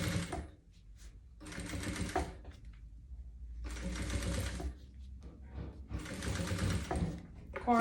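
A sewing machine stitches around the edge of a pet backpack, running in several short close bursts separated by pauses, with quiet speech between the bursts.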